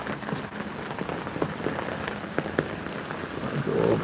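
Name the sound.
rain falling outdoors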